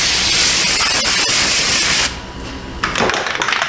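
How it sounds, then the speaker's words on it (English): Surface Shield aerosol rust protectant sprays in a loud, steady hiss for about two seconds, stops briefly, then sprays again in a shorter burst. "Spray it like you didn't pay for it, man."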